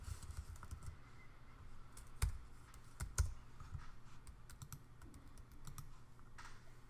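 Typing on a computer keyboard, with quiet, irregular key clicks close by and a couple of sharper, louder keystrokes in the middle, with no talking.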